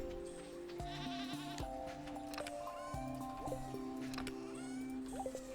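Goat bleating in the Stardew Valley video game, several short wavering bleats set against a soft looping music background with plucked notes.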